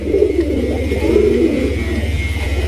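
Steady pigeon cooing, close and continuous, with low rolling calls repeating throughout and no voices.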